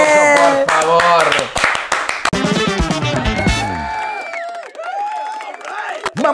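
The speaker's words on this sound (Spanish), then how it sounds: "¡Un aplauso, por favor!" Brief applause and cheering from a small studio audience on a comedy podcast, clapping mixed with loud overlapping voices and laughter, then thinning out as talking continues.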